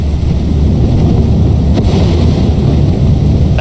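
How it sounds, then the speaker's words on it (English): Loud rumbling thunderstorm with heavy rain and wind roar in the video game Lethal Company, a continuous deep low rumble with a brief crackling strike midway and no talk. "That's some wicked fucking lightning."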